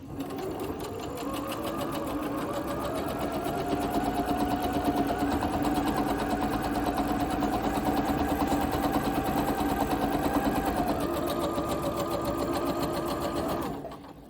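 Steady, continuous whir of a sewing machine running for about fourteen seconds as it stitches along the edge of a piece of fabric, loud and close, with no voices and an abrupt stop at the end.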